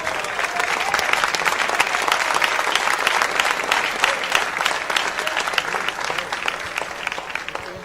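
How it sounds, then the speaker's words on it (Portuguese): Steady, dense applause from a church congregation praising God with their hands, filling the room evenly for several seconds as many people clap at once, with no voice rising above it. "Pode louvar a Deus com as palmas."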